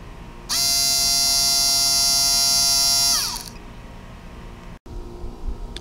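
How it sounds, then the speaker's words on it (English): A small hobby DC motor powered by a solar panel at 19 volts whines loudly and steadily at close range for about three seconds, then winds down and falls silent. "If you can hear that whining sound."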